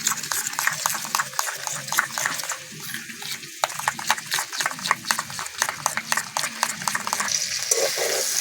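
Vegetables fry and sizzle in a pan for a vegetarian navratan biryani, with a steady crackling hiss and repeated scraping stirs of a spoon; close and moderately quiet, with no talk.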